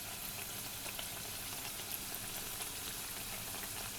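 Mashhadi roghan joshi flatbread dough frying in hot oil, a steady, dense crackling sizzle that holds evenly throughout at close range with no voices.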